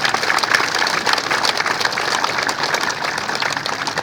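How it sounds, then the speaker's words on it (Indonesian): A crowd gives sustained, even applause at a police ceremony honouring a commander of the Central Jakarta police, a dense wash of clapping that holds steady throughout with no voices over it. "Untuk itu kita berikan aplaus yang panjang kepada Bapak Angista Harmanoyoyo"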